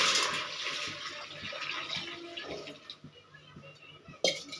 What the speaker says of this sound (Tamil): தேவைக்கு தண்ணி ஊற்றிக்கலாம்.